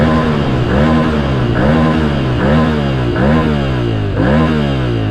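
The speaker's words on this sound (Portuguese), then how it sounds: "preparem seus ouvidos para escutar o ronco da lendária T7 Teneré" A Yamaha Ténéré 700 (T7) motorcycle engine roars through repeated rev climbs, each pull rising in pitch then dropping back, about five loud close-up surges in a row with no talk.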